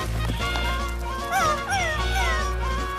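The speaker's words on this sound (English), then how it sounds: "he heard barking coming from inside the house" Barking and whimpering from a young pup trapped inside a burning house, short high yelps rising over a steady low rumble and music-like background, fairly loud and continuous throughout.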